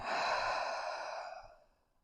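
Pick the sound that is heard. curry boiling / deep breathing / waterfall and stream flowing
deep breathing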